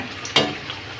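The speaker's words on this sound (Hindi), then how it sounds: "इसको तलते समय गैस का फ्लेम हाई रहेगा" A puffed wheat-dough snack fries in hot oil over a high gas flame, giving a steady close sizzle with a sharp burst of crackling splatter as it is turned.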